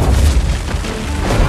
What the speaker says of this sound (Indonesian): menerobos pintu penjaga dengan menghancurkannya dengan bom